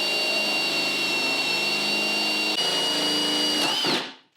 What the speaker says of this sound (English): I'm going to take this 1-inch paddle bit and I'm just going to drill out the hole for the handle